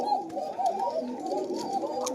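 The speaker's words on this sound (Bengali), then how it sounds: "দর্শক এবার দেখতে পাচ্ছেন আঠারো নম্বর পেয়ারের কবুতরের ডাকটা" Koka pigeons, a fine-voiced breed kept at a farm, cooing in soft continuous rolling phrases close by, with light background noise and no clear talk.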